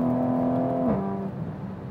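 A BMW ZF8 automatic transmission in a MK5 Toyota Supra shifts gear under about a quarter throttle in manual mode. The steady engine drone drops in pitch at the shift, then carries on at a lower, rougher note.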